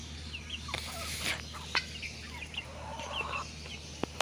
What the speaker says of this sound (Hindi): वैसे जैसे ही कुड़क हुई है कुड़क की आवाज निकाल रही है।